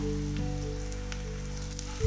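Onion, chili and tomato frying in a pan, a steady close sizzle with faint crackles and a low hum running throughout.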